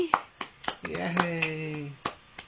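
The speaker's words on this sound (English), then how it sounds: "Clap hands!" Small hands clapping in a cheerful high-five game, several separate claps and taps spread unevenly across a couple of seconds, mixed with excited voices and a sung or cheering tone in between.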